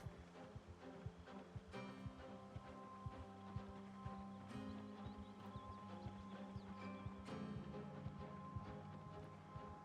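A horse sound effect plays in the Project Zomboid video game: faint, quick hoof clip-clops in an irregular rhythm sit under a quiet ambient background.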